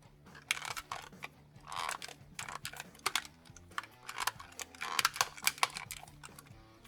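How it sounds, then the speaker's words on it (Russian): The climate control display in a Chevrolet Epica dashboard gives off repeated short plastic creaks and squeaks in quick, irregular bursts, close and fairly faint. "Вот тут он стоит и постоянно скрипит"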